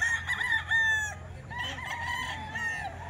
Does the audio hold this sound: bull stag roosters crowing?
yes